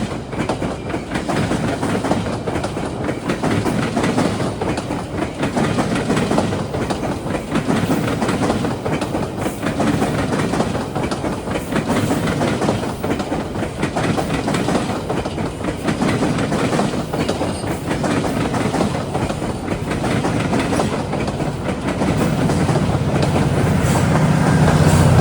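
A Kitchener-bound GO commuter train led by an older cab car rolls past close by near Toronto, a steady loud rumble with rhythmic clickety-clack of wheels over rail joints throughout, no voices.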